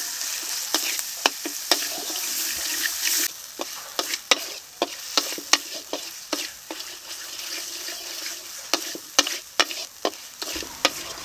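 Spice masala of Kashmiri chilli powder, turmeric and salt sautéing in a pan for rohu fish kalia, a steady sizzle broken by frequent sharp spatula scrapes and taps, close and fairly loud.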